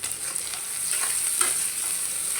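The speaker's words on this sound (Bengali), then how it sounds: "পেঁয়াজটা ভালো করে ভেজে নিই" Onions sizzle in a pan of oil while a spoon stirs them, scraping strokes rising over a steady close frying hiss, with no voices.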